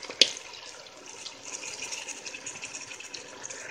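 Wine pours into a cooking pot during a stew of potatoes and marinated ribs: a soft, steady liquid splash with a faint sizzle, close and fairly quiet, with no talk.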